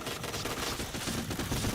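Video game gunfire, a dense, continuous rattle of rapid shots heard close and loud throughout, with no pauses.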